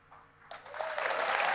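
Audience applause breaks out at Apple's WWDC 2018 keynote, starting faint and quickly swelling into broad, sustained clapping from a large crowd.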